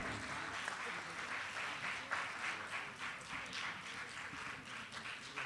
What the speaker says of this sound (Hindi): इनके लिए जोरदार तालियां होनी चाहिए मित्रों, अनवरत